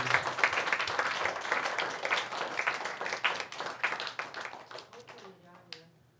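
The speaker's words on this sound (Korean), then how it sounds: "우리 모두에게 식당 봉사하시는 모든 분들에게 소망의 박수, 경의의 박수" A church congregation claps for its kitchen volunteers, a dense round of hand claps that thins out and fades near the end, with some voices mixed in.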